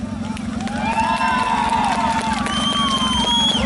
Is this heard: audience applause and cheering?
yes